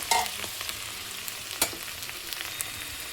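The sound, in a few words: stirring onion stalks (peyaj koli) frying in a pan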